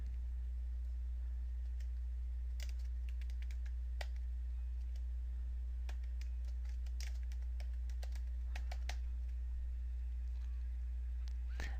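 Keys clatter on a computer keyboard while formatting a document in Microsoft Word, bursts of light clicks in irregular clusters over a steady low hum, fairly close and quiet.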